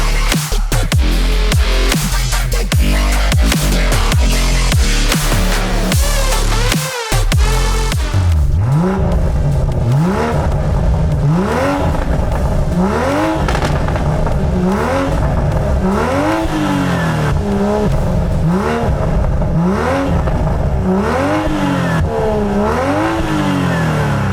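A BMW G20 M340i fitted with an Akrapovic downpipe roars loudly up close, its engine revving in repeated rising and falling sweeps with a brief cut after an initial sustained blast.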